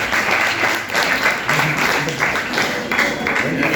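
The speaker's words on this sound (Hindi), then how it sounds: "तालियां बजती रहनी चाहिए।" Audience applause in a hall during a student council oath ceremony at a girls' college, a steady dense wash of clapping that carries through the whole stretch without letting up.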